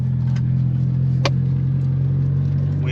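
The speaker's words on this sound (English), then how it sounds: "Austin's upgraded turbo and fuel system finally getting tuned." Steady idle of a 2013 Mitsubishi Evo X engine with an upgraded turbo and fuel system, a deep constant rumble close by with one brief higher blip partway through.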